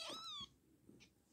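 A newborn kitten, still blind, lets out one thin, high meow up close, followed by faint soft rustling.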